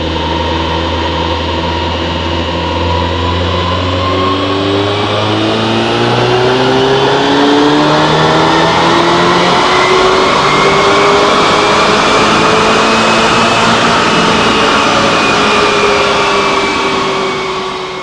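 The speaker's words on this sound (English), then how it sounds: "we are going to get boost up some more and probably do a few more pulls" A tuned VW GTI with EQT Vortex and MPI upgrades runs a dyno pull, its engine note climbing steadily in pitch over many seconds to a loud sustained high-rev howl, then easing off at the end, with no one talking.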